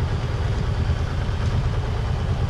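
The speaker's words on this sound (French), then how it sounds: "Mon pauvre moteur. Ouais, il marche bien maintenant." A sailboat's engine runs steadily while motoring along the Corsican coast, giving a loud, close, continuous low rumble with no talk.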